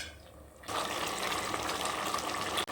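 Water cooks down in a pot of mutton curry on the stove, a steady, dense bubbling and sizzling hiss that starts abruptly and continues evenly, close and fairly loud.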